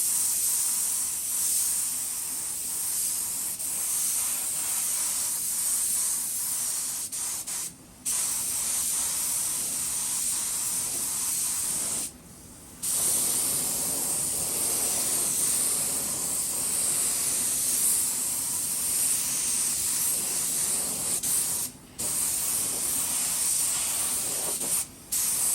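Spray paint hisses continuously onto a 4x4 off-road vehicle, a steady loud aerosol jet broken by three brief pauses, with no one speaking.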